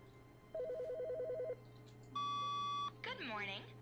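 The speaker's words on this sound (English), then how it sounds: "was the telephone ringing before?" Telephone in the video game The Stanley Parable, a trilled electronic ring burst, then a long steady beep tone, followed by a person talking.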